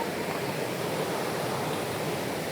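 Heavy rain falls steadily at a Daryai Mata hillside shrine near Nashik, a soft, even hiss of downpour with no breaks and no voices.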